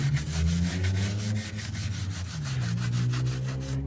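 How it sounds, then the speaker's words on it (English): A small plastic dollar-store scrub brush works over greasy Mitsubishi Eclipse engine parts during an oil change, giving close, steady rhythmic rubbing and scratching strokes with no voices. "get yourself a little scrub it up brush from the dollar store"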